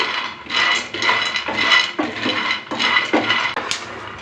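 Peanuts being stirred while dry-roasting in a pan over medium flame, a rhythmic rattling scrape of nuts tumbling against metal in repeated strokes, close and steady with no talk.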